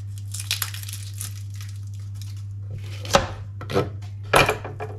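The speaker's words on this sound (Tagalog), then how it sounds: "Gayat na ako ng sibuyas ko dyan" A knife chopping onion on a board, a few faint cuts followed by three louder, crunchy chops spaced about half a second apart, close by over a steady low hum, with no talking.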